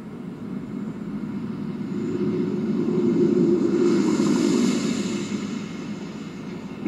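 Space shuttle Atlantis landing on the runway at about 320 miles per hour with gear down, a steady loud roar that swells in the middle as the main gear touches down, then eases slightly, with no talk.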